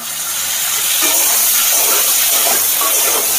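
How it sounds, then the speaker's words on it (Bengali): Cut potatoes and pumpkin fry in a pan for a curry, a loud steady sizzling hiss with crackling spatters that stays close and continuous, no voices. "আলু আর কুমড়োটা ভাজা হোক"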